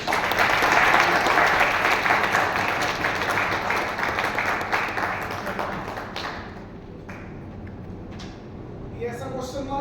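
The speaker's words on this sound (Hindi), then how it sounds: "ताली बजाओ ना" An audience in a lecture hall claps together in a dense, loud burst that gradually thins out into scattered claps before fading.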